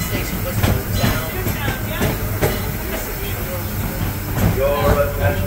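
The Disneyland Railroad's E.P. Ripley steam train runs at the park, a steady rumble with faint rhythmic clatter and hiss under announcement-like talk and crowd noise.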